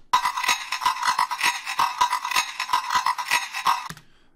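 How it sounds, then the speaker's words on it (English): A standard African percussion loop, repitched upward in a music production program, plays as a steady, busy pattern of sharp, bright hits with a ringing metallic tone, running evenly for about four seconds before cutting off abruptly. "a normal standard African loop that I will play right now"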